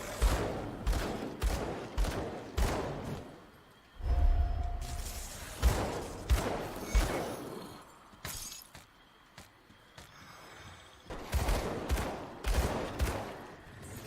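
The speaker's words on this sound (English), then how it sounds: "my two guns have two pretty different fire rates. And since I'm just holding the button down" Two guns firing at different rates in Grim Dawn, fast overlapping bursts of shots with shattering impacts, coming in several loud runs separated by brief quieter gaps.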